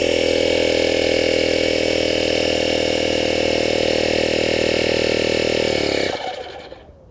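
A Cycplus AL7 portable air pump inflates a 10-inch electric scooter tire from 8.5 to 50 psi, giving a loud, steady, buzzing motor whine close by that cuts off abruptly near the end.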